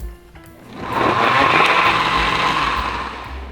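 A blender grinds pear, radish and onion with a splash of shrimp stock, a steady loud whir that ramps up after a second and holds.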